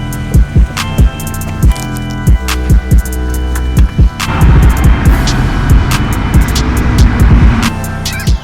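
A car drives along steadily with a continuous engine and road hum, punctuated by a series of loud, regular thumps as the wheels roll over bumps or joints, close and prominent.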